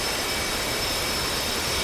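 An F/A-18 Hornet fighter jet engine runs steadily during a ramp start in a flight simulator game, a loud continuous roar with a high whine and no talk.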